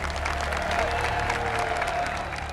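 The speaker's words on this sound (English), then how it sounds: "Let's give them a round of applause." Crowd applause at a karate tournament semi-final in a Cobra Kai episode, a steady wash of clapping throughout with a faint sustained tone underneath.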